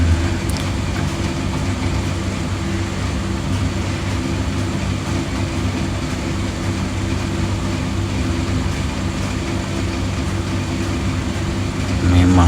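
A small electric hair clipper runs during a taper fade two-block haircut, giving a steady, close, continuous buzzing motor hum with no breaks that swells slightly louder right at the end.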